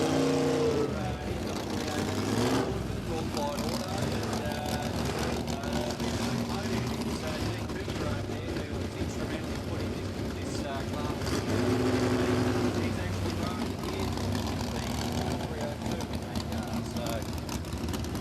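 Drag racing cars idle at the start line at Warwick Dragway, a Plymouth Valiant and a four-speed Ford Falcon ute, a steady low engine rumble running throughout under continuous commentary talk.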